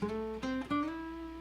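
A short, quiet pentatonic guitar phrase of a few picked notes, the last one sliding up to the fifth and sustaining to close the line.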